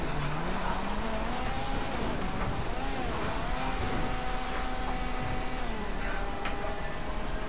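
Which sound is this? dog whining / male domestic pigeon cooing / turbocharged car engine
turbocharged car engine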